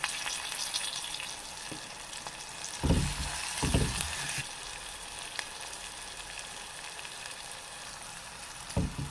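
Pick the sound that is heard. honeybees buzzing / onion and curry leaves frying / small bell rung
onion and curry leaves frying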